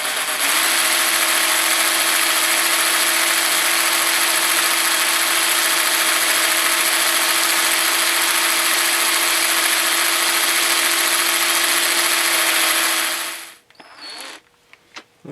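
A drill fitted with a regular bit grinds steadily into a Tecumseh engine part, a loud, constant whirring whine that runs unbroken for about thirteen seconds before cutting off into a few faint clicks.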